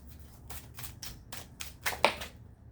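Tarot cards are shuffled and pulled by hand in a quiet room, giving a series of soft riffling and slapping bursts that build to a sharper snap near the end, close and alone.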